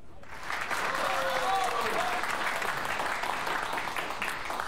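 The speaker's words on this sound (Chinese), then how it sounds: "我们大家给鹏哥一点掌声。" An audience at a live music performance applauds steadily and close by, a dense wash of clapping that swells and holds for several seconds, with a brief whoop or whistle rising above it early on.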